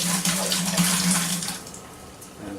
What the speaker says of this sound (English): I've got 2 bottles of coconut rum. We're just going to pour the whole thing in.